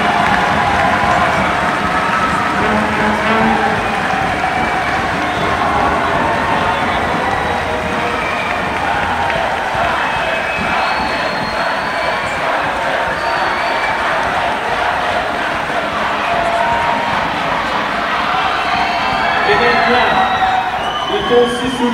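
A ceremony audience at the FIRST Montréal 2012 event applauds and cheers teachers, producing a steady wash of crowd noise with clapping, shouts and voices mixed together for the whole stretch.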